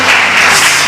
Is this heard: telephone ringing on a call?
no